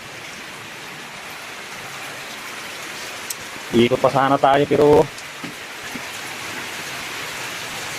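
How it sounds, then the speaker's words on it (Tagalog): Heavy rain pours steadily in a dense, broadband hiss outdoors, with someone speaking briefly midway over the downpour. "Lakas ng ulan."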